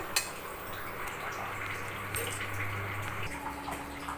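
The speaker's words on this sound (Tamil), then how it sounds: "இப்போ இந்த ரவையில் வந்து கொஞ்சம் தண்ணி ஊற்றி வைக்கலாம்" Water is poured into semolina (rava) for soaking: a steady, close trickling pour with light splashes that runs continuously, then shifts tone near the end.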